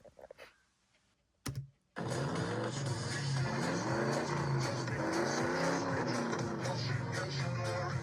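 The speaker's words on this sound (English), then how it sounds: "I'm putting some car noises to it. So we've got some music with cars in the background." Recorded car sounds play with music as part of a Halloween display setup: after a few faint clicks and a brief burst, a dense, steady engine roar with racing-style revving kicks in and continues at an even level.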